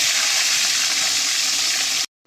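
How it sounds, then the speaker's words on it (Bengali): Fish frying in hot oil, a loud, dense, even sizzle held close for about two seconds before stopping abruptly. "বাকি মাছগুলো একইভাবে ভেজে নেব"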